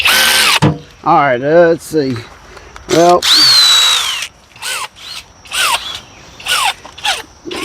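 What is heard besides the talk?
power tool running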